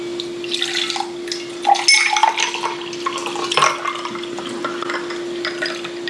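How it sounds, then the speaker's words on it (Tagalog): A pot of tinola soup being stirred, with wet sloshing and clinking of a spoon against the pot close up, over a constant steady hum, with no talking. "Haluin natin."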